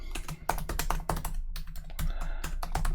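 Quick, close clicks and clacks of a computer keyboard as code is typed, a steady flurry of keystrokes with brief pauses and no one speaking.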